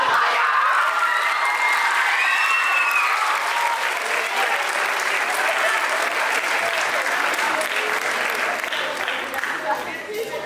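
A school theatre and choir show audience bursts into sustained applause with cheers and children's shouts, a loud, continuous roar of clapping that eases slightly near the end.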